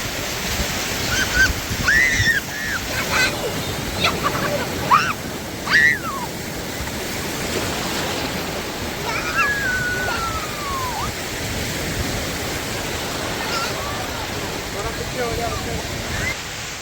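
Sea waves wash on the beach at Alanya, Turkey, as a steady broad surf rush mixed with wind, while people talk and shout faintly in the distance.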